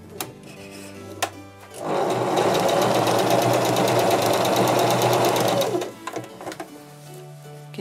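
Sewing machine stitching fabric with the thread tension set to its tightest, a loud close mechanical whir running for about four seconds between quieter handling sounds.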